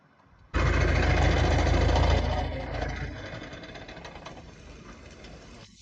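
Hydra crane engine started up beside a bulldozer repair job, a loud close diesel clatter that kicks in abruptly, runs steady for a couple of seconds, then settles into a quieter rumbling idle.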